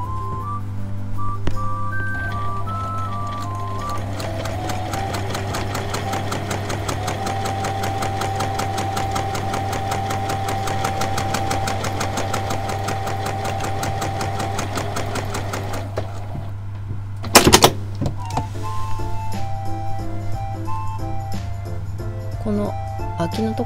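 Sewing machine stitching fabric for a handmade cloth item, a steady fast mechanical whirr running continuously with a brief pause and a louder clatter near the end.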